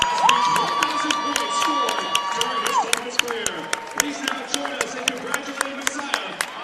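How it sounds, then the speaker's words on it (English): At a men's college basketball game, the crowd applauds and cheers as a player is subbed off the floor. Sharp claps and shouts fill the arena while an announcer talks over it. "They subbed him out of the game so that he would get a nice round of applause."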